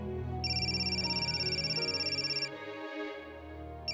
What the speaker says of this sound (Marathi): गौरीचा फोन